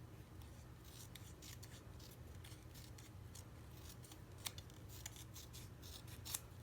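Scissors snip through paper card for a scrapbook layout, a series of quiet, close, crisp cuts at an irregular rhythm over a low background hum.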